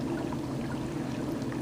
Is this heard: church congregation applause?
no